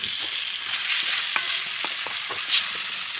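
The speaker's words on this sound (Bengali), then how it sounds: "এবারে নুন হলুদ মাখিয়ে রাখা মাছগুলো দিয়ে দিচ্ছি" Hilsa fish pieces coated in salt and turmeric fry in a hot pan with a steady, dense sizzle, broken by a few clinks and scrapes of stirring.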